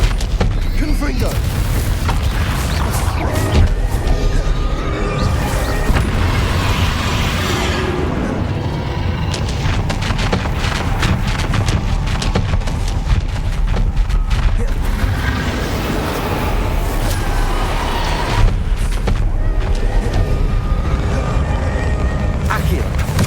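Bombarda and Confringo spell blasts in Hogwarts Legacy fire off in a rapid series of booming explosive impacts amid dense combat effects, with a voice shouting throughout.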